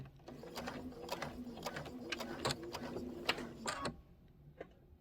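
A sewing machine stitches a Kimberbell storybook pocket pillow in steady bursts of rapid mechanical clatter that stop near the end, with only a brief faint tick afterward.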